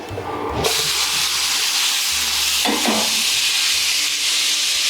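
Red Kashmiri chili frying in oil while being stirred, a loud sudden hiss and sizzle that flares up and holds steady, with brief scraping stir sounds and no speech.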